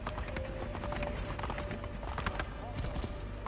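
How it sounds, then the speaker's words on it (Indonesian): A horse's hooves clip-clop in a steady trotting rhythm in the Assassin's Creed 3 video game, set against a foggy outdoor ambience with a faint whinny tone, and no talking over it. "Kuda."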